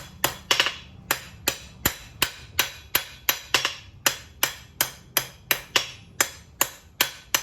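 A hand hammer strikes hot metal on an anvil in a coal forge while a square bar is being shaped, about twenty sharp ringing blows in a steady, evenly paced rhythm, close and loud with no talking.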